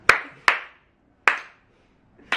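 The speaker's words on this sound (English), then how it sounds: "Just a slow clap." One person gives a slow clap indoors: four sharp, isolated hand claps at an unhurried, slightly uneven pace, each ringing briefly into a quiet room before the next.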